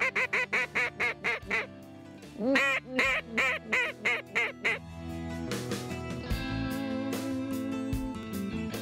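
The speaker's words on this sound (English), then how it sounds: "With the different calls, you just got a general quack" A duck call sounds during a duck hunt: a rapid run of loud, evenly spaced quacks, then a second burst of quacks, followed by a looser stretch of calling near the end.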